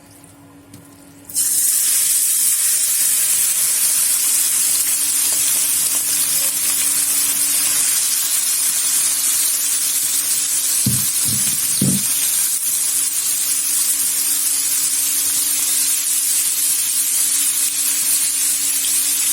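Shrimp dropped into hot oil in a pan for Damietta-style fish rice, a sudden loud sizzle that stays as a steady dense crackle, with a few brief knocks partway through.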